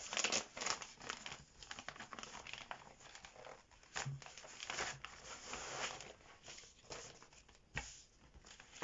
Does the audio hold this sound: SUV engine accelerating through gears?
no